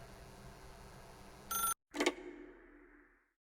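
A telephone rings in The Stanley Parable, a video game: a short bright ring cuts off abruptly, then a second, louder ring fades gradually into silence.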